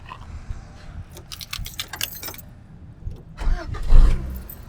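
Keys jingle, then the 2-litre fuel-injected engine of a 1993 Honda Accord cranks and catches, rising into a rough idle, close up with no talking.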